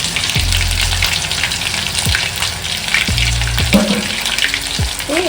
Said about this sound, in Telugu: ఒక వంద గ్రాములు అల్లం వెల్లుల్లి పేస్ట్ ఈ నూనెలో వేసి బాగా ఎర్రగా